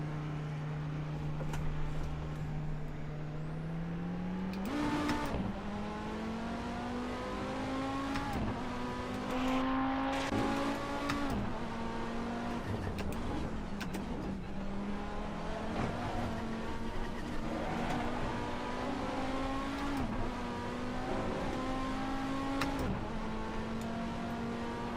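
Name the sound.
car wheels spinning in Assetto Corsa, a video game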